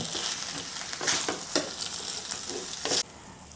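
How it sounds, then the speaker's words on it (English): Potato and minced pork stir-fried in sauce for a Cantonese home-style dish, a steady close sizzle broken by repeated scrapes of a spatula against the wok, which stop abruptly near the end. "Cook for another half to 1 minute until the sauce is well absorbed and thickened."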